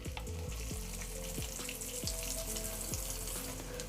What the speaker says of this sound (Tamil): இப்போ வந்து நம்ம வச்சுருக்க எண்ணெய் நல்லா சூடாயிடுச்சு. நம்ம கட்லெட்டு போட்டுடலாம்.